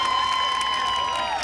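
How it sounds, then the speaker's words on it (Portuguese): A rodeo audience at a night event in São Fidélis, Brazil, applauds and cheers for a cowboy, a steady crowd roar with a sustained whistle or tone running over it. "A salva de palmas pra esse cowboy"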